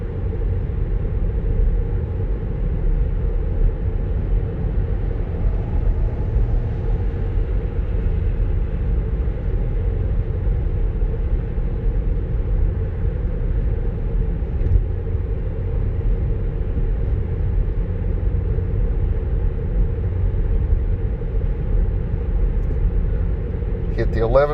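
A Tesla rolling along on Autopilot, its cabin filled with a steady, loud low road rumble and tire drone that holds unchanged for the whole stretch.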